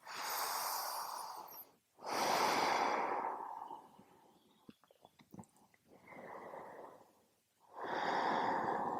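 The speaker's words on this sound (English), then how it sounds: "Breathing deeply." Deep, slow breaths during a yoga session, with long audible inhales and exhales near the mic and a brief quieter pause with small rustles in the middle.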